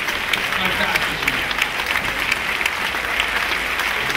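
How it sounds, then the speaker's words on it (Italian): An audience applauds first-year music students at a concert at Cardiff Castle, a dense, steady clatter of clapping that holds for the whole stretch with no break. "Veramente un grande applauso al nostro primo anno."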